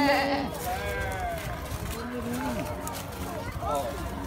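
Sheep or goats bleat at a park in Fortaleza, Ceará, with wavering cries rising over a voice that talks and imitates the bleats nearby.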